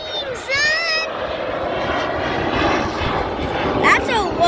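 A propeller airplane makes a low pass at the Dayton air show, a loud steady drone that swells near the end. Excited voices talk and shout over the engine noise throughout.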